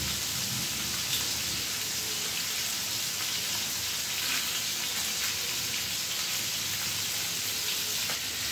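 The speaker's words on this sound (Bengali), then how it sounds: "এবার আমরা তেলের মধ্যে একে একে মাছগুলো ছেড়ে দিয়ে ভালোভাবে ভেজে নেব।" Aarh fish fry in smoking-hot oil in a wok, a dense continuous sizzle like steady rain, close and even throughout with faint crackles and no talk.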